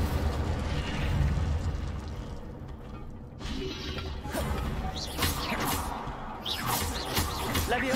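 An Incendio fire spell goes off in the video game Hogwarts Legacy: a burst of crashing, roaring game effects with rumbling lows, a brief drop, then flaring crackles and whooshes at moderate loudness.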